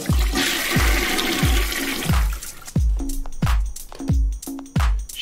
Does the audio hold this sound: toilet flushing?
yes